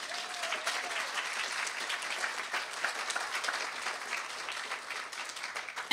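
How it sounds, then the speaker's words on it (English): An audience at a university teaching excellence awards ceremony breaks into sustained applause, a dense steady clapping from a crowd of people in a hall lasting several seconds. "Give them a round of applause."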